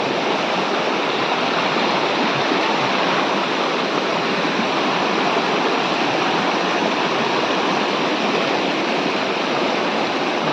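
River water pours over a weir in a loud, unbroken roar of rushing flow, steady and close throughout with no voices.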